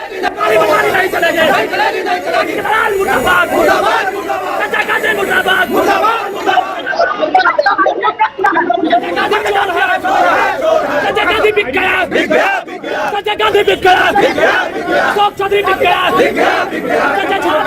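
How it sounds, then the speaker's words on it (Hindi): JDU party workers protest outside Nitish Kumar's house, a loud crowd chanting and shouting slogans continuously, with dense overlapping voices over a field reporter's setting. "नीतीश कुमार के घर के बाहर प्रोटेस्ट"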